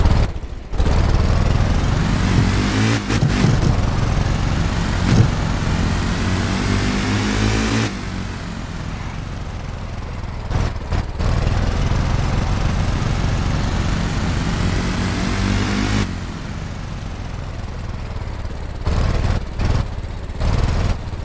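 Supercharged engine of a truck shifted out of park and driven, revving and accelerating with surging throttle bursts, a drop to a lower idle-like drone midway, then renewed revving near the end; no voices.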